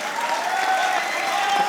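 A studio audience on a Pakistani cricket talk show claps steadily, a uniform wash of applause with a faint tonal hum running beneath it.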